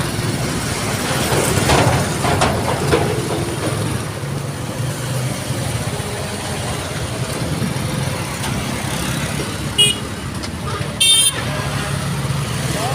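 A motorbike rolls slowly along busy Mudichur Road amid a steady rumble of surrounding traffic, with two short horn toots near the end and a rider's voice talking throughout.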